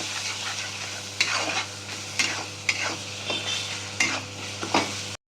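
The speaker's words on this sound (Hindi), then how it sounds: "अब इसको थोड़ा सा मसालों के साथ किया जाएगा फ्राई।" A Karwa Chauth special dish frying with spices in a pan, a steady sizzle under repeated scraping stir strokes at roughly one-second intervals, close and fairly loud, with no talking.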